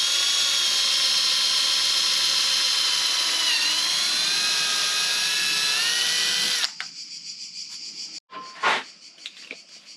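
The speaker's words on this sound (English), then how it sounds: "I'm going to first drill this one before I mark the rear ones" A power drill whines at high speed for several seconds, drilling a mounting hole for a Harley-Davidson Touring side case rail, pitch shifting slightly as it bites, then stops, followed by a few short bursts and clatters.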